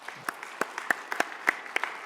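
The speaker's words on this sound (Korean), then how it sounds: "우리 박수로" Scattered applause in a seminary chapel service, sparse individual claps landing at an uneven rhythm, quiet and somewhat distant, with a few sharper hand strikes standing out.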